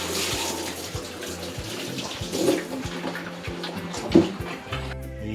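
Water poured out for animals on a hot day, a steady splashing and trickling close by with dogs nearby and faint thumps, running continuously before stopping near the end.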